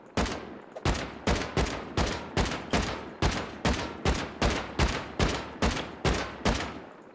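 Rapid bursts of gunfire from the Rust video game, about fifteen evenly spaced loud shots in a steady rhythm, heard alone without talk.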